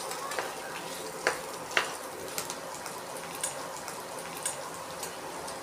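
Onion frying gently in a pan for a spicy aloo kofta gravy makes a faint, soft, continuous sizzle, broken by a few light spatula taps and clicks.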